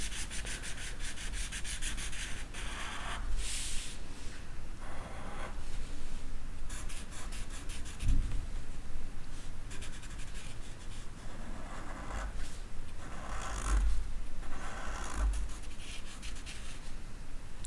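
A black colored pencil scratches steadily across paper while coloring in a Pokéball drawing, close, dry rubbing strokes in repeated bursts with short pauses between them.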